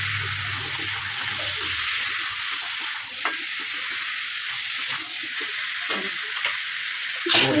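Chopped tomato with salt and turmeric sizzles steadily in a hot pan for a country chicken curry, a constant hiss broken by soft scraping stir strokes, close and even throughout.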